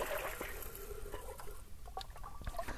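Homemade apple cider is ladled from a pot into a carboy, making faint, irregular splashes and trickles with small liquid plops against a quiet background.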